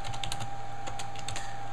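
Rapid, uneven clatter of keys on a computer keyboard, close and continuous, with bursts of several strokes in quick succession and no talking.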